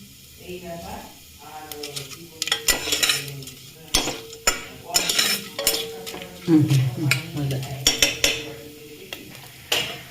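Dal poured into hot phoron tempering in a pan, with clattering metal utensils, scraping and stirring, a brief sizzle as the liquid hits, and a person speaking intermittently throughout.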